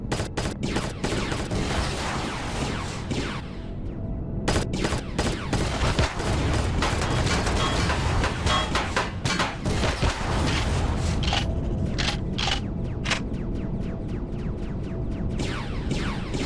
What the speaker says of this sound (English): Let's turn the guns on.